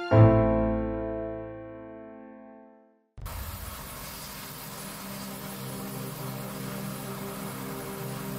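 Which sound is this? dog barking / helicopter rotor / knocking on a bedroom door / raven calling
helicopter rotor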